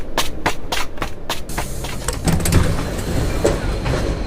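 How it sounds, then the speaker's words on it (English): Sounds of a train with rhythmic clicking at first, then a sliding door rumbling as train doors close, followed by the steady hum of the carriage, with no voices. "The train doors were already closing"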